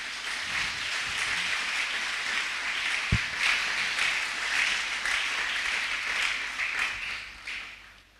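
A church congregation applauds and acclaims the word of the Lord, a steady, dense wash of clapping that fills the whole stretch at even loudness and tapers off near the end.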